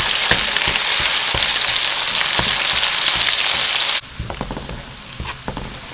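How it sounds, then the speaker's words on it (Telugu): Curry leaves and ginger fry in oil left over from frying fish for a fish pickle, a loud, dense close hiss that cuts off abruptly, followed by quieter stirring taps and scrapes. "చేపలు వేపుకున్న ఆయిల్లోనే కరివేపాకు, అల్లం పచ్చివాసన పోయేదాకా ఫ్రై చేసుకోవాలి."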